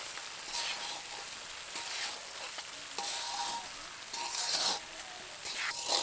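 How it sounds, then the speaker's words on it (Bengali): Ash gourd murabba stirred in drying sugar syrup, a steady close sizzling hiss broken by repeated scraping strokes of a spoon against the pot, with no voices. "আর আমি এটাকে নাড়াচাড়া করছি, একটু একটু করে ঠান্ডা হচ্ছে।"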